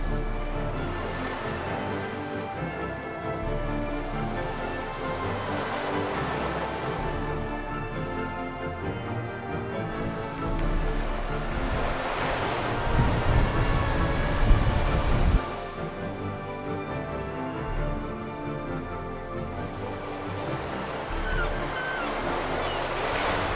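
Incoming tide washing onto a rocky Pacific Northwest shore, a steady broad roar of surf with swells building and breaking over about twenty seconds, wind noise mixed in and no voices.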